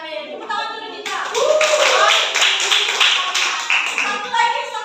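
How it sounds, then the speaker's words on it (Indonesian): A classroom of students claps their hands together, a loud, brisk burst of clapping close by lasting several seconds, with voices talking over it. "Tepuk tangan dulu kita."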